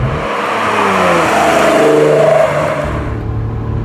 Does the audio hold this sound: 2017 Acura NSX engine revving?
yes